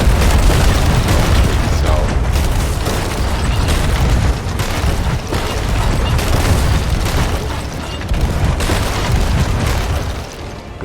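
Ship cannons firing at the Flying Dutchman in Sea of Thieves, dense repeated booms and bursts layered over a roaring battle din, loud and continuous, with a brief spoken word early on.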